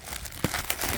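Plastic packaging around a sealed beam taillight crinkles and rustles up close in soft, irregular bursts, with a couple of sharper crackles as it is pulled open.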